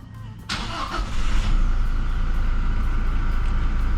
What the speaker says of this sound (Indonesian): Mari kita nyalakan mobilnya.